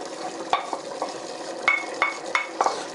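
Spice tarka poured into a pan of channa dal and stirred, a soft background sizzle broken by several sharp clinks and scrapes of a utensil against the pan at irregular intervals.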